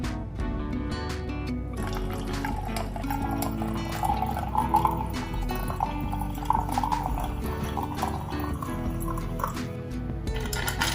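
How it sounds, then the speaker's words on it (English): Soda being poured into a glass of lemon iced tea with muddled mint, a continuous fizzy liquid trickle and gurgle heard close up over soft background music, no talking. "Now I'm going to add the soda."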